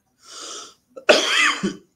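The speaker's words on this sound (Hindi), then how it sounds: "ये दिल्ली का मौसम सबको खांसी दे रहा है।" Someone coughing at a press briefing in polluted Delhi air: a brief rasp, a short pause, then a harsh, louder cough with a small trailing catch, close and alone.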